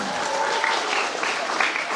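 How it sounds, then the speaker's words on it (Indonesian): Steady applause from a church event crowd for the organizing committee of a five-day charity program, a dense, even wash of many hands clapping close by for the full stretch with no voices over it. "Tepuk tangan dulu deh buat kalian tuh"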